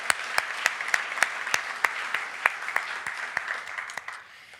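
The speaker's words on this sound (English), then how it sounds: "Let's give them a round of applause" A conference audience claps during opening remarks, a moderate wash of applause with distinct individual claps standing out in a steady rhythm, tapering off toward the end, no talk.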